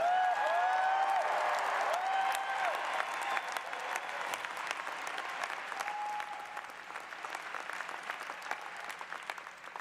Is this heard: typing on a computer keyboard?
no